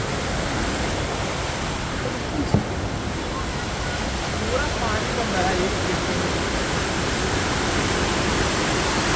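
Strongly flowing river water rushing beneath Panposh bridge after continuous rain, a dense, steady roar that fills the whole clip with a brief faint knock partway through.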